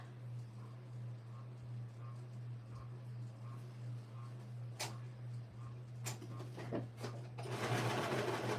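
A sewing machine attaches a neckband to a kid's dress with a soft, steady hum and evenly spaced ticking of the stitching, fairly quiet, with some louder handling noises toward the end.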